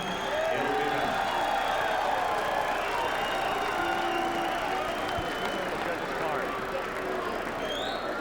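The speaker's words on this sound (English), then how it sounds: "A round of applause, please, for Chris Byrd" An arena crowd at a boxing match cheers and applauds in a steady roar, with an announcer speaking over it.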